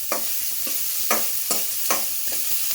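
Chopped onion and crushed garlic sautéing in a pan for tomato kurma, a constant sizzle broken by regular spatula scrapes about every half second, close up with no talk.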